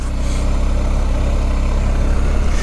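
A BMW R1250GSA adventure motorcycle rides over slippery ice, its engine giving a steady, close, low throbbing drone that holds level the whole time, with no speech.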